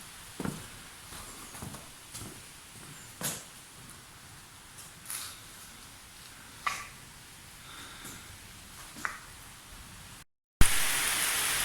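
Steady rain falls outside an open church porch during a cycling trip, a constant broadband hiss with scattered louder drips and taps close by, no one talking.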